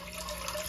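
Water pours into a pressure cooker holding soaked hominy, a steady soft liquid rush that stays even and close throughout, with no talk over it.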